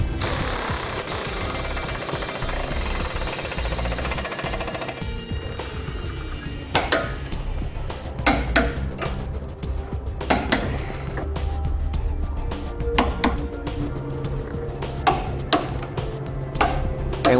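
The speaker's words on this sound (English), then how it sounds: "we can go ahead and snug down the hitch and then torque it down as specified in the instructions" Ratcheting and clicking of a wrench snugging and torquing trailer hitch bolts on a 1997 Jeep Cherokee, with a steady mechanical whir at first and then a run of sharp metallic clicks and clanks close by.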